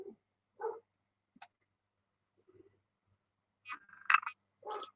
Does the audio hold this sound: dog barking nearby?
yes